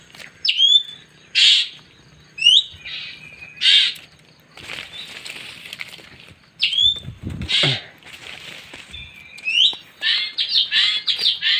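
Fork-tailed drongos call repeatedly outdoors at a bird-trapping site, with sharp metallic chirps and whistles recurring in bursts, some close and loud, alongside occasional rustling and wing flutters.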